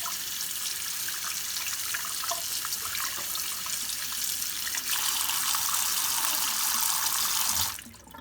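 Cold water from a kitchen tap runs steadily over a boiled egg, a continuous splashing hiss that stops abruptly near the end.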